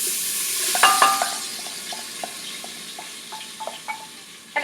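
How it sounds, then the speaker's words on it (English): Mung beans are stirred with oil and spices in a pot, giving a soft steady scraping hiss with scattered light clinks and taps of the spoon against the pot, close and fairly loud, with no talking. "I'm just kind of coating my beans with the oil and spices."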